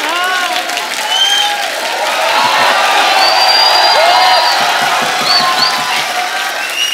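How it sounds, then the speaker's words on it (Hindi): Studio audience applauding during a Kapil Sharma comedy show, a dense steady wash of clapping with some cheers and whoops, loud and continuous for several seconds. "तालियां देख लो."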